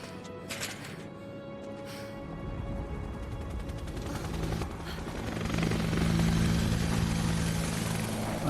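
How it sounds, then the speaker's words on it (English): A helicopter crashes into a tower in the video game Final Fantasy VII Remake: a loud, steady rotor-and-engine roar with rumbling impact noise that builds and thickens toward the end, with no talk. "The second helicopter just hit the tower."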